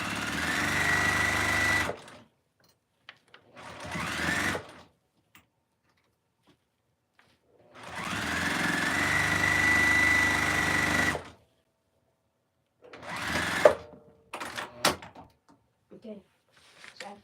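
A sewing machine stitches pajama fabric in two long, steady runs of a few seconds each, close and loud, with short bursts in between and clicks and handling noises afterward.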